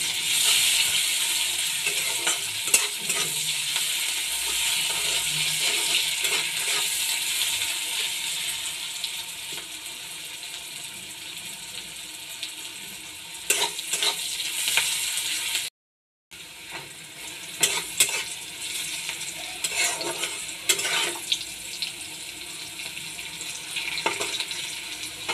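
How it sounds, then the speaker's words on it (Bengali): Chopped onions, salted to soften faster, fry in a pan with a steady, close hiss and sizzle, stirred now and then with scraping clicks, briefly cutting out midway. "পেঁয়াজটাকে একটু লাল লাল করে ভেজে নিতে হবে"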